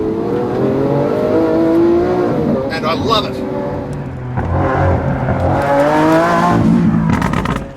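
A Lamborghini Aventador S engine revs and surges loudly in rising and falling bursts, with someone talking over the engine noise throughout.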